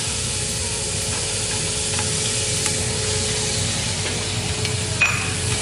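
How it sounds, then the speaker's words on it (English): Onions sauté in olive oil in a pan, a steady loud sizzle with faint stirring clicks throughout. "I'm gonna now start to saute the onions with a little olive oil in the pan"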